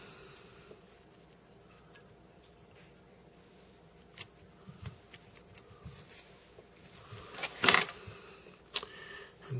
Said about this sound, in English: I'm going to trim off the point now.